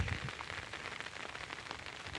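Steady rain falling outdoors around a fish pond fenced with netting, a dense continuous hiss with no voices.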